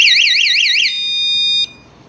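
A loud electronic alarm from a KEYE security alarm warbles in a rapid rising-falling siren pattern for about a second, then shifts to a steady tone with short beeps before stopping.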